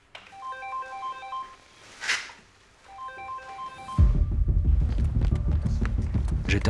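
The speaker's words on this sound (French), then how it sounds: "le téléphone a sonné, j'ai reçu le message d'engagement pour un feu de ferme" A phone sounds an alert tone for a firefighter's call-out to a farm fire, a short repeating electronic melody in two bursts, then gives way to loud rumbling and clatter.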